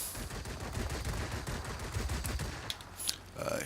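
Aircraft machine guns fire in sustained rapid bursts during a World of Warplanes battle with an A7M fighter, a dense rattling fusillade over engine drone, with a few pings and whistles near the end.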